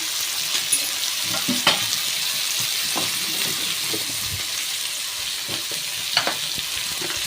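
Potatoes with turmeric and salt frying in a pan, giving a steady close sizzle broken by occasional scraping stir strokes, with no talking.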